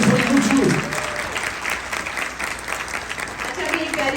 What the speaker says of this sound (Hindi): बहुत सारी तालियां मेरे दोनों बच्चों के लिए भी।